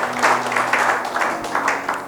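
A church congregation applauds and cheers in worship, a loud, continuous wash of clapping and voices rising in waves over a held musical tone.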